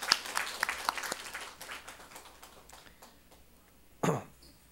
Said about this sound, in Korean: 박수로 다시 한번 환영하겠습니다.